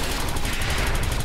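Rapid shooting in the video game Gal Guardians: Demon Purge, a dense, continuous burst of gunfire-like blasts with a fast, even rhythm, loud throughout the short moment.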